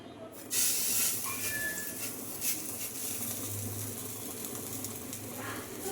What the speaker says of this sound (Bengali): তো আমি একই প্রসেসে সবগুলোই ভেজে নেব